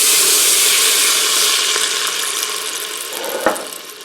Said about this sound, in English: I'm going to add 1/2 cup of beef broth.